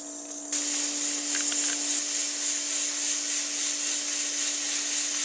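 A pressure cooker of black beans bursts into a loud, continuous steam hiss after a brief quiet start, holding steady and close over a constant low hum.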